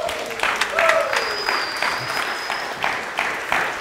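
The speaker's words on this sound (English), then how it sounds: "I think he deserves a little better clap than the one he just got" Congregation in a church clapping in a lively, rhythmic burst, with distinct claps standing out amid scattered voices and a brief whistle-like tone.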